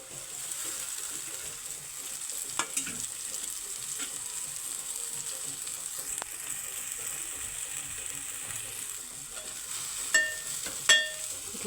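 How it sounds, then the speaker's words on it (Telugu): Noodles fry in a little oil in a pan, a steady close sizzle running throughout with occasional clinks of a utensil stirring, no talking. "కొంచెం ఇట్లా ఫ్రై అయిన తర్వాత ఇందులో నూడిల్స్ వేసిద్దాం."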